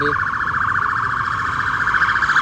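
A loud ambulance siren wails steadily with a rapid warble, sounding over the low rumble of traffic.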